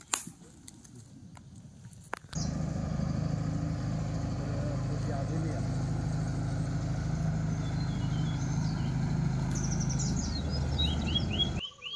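A small boat's motor, carrying passengers around an island temple site, kicks in after a couple of seconds and drones steadily and close, with faint bird chirps on top, then cuts off near the end.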